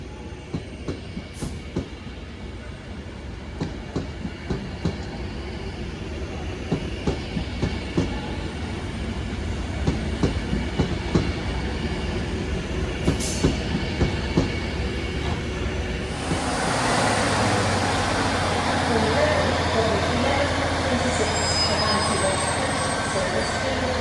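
A passenger train rolls through Crewe station with rhythmic clickety-clack of wheels over rail joints, growing louder, then a broad roaring rush as carriages go by close.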